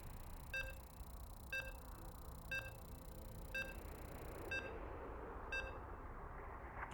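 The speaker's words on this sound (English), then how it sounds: "And you can hear the beeps." A series of short, evenly spaced electronic beeps, about one per second, sounding over a steady background hum.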